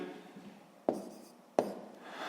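Pen strokes of someone writing math answers on paper, two sharp taps or strokes standing out from a soft continuous scratching, close and quiet with no talk.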